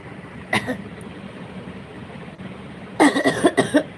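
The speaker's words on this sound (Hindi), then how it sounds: "खांसी आ गई" Two bursts of coughing, a short single cough early and then a cluster of several rapid coughs, close up over a quiet background.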